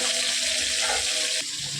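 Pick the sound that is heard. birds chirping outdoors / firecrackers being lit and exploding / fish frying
fish frying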